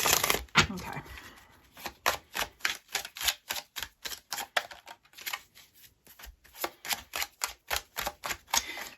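Tarot deck being shuffled by hand, a series of crisp riffling and tapping bursts in an uneven rhythm, close and fairly quiet.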